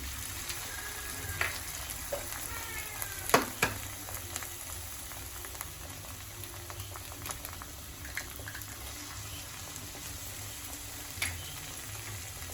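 An egg frying in oil in a pan, Kerala-style home cooking, with a soft steady sizzle throughout and a few sharp crackles and pops scattered across it, no talking.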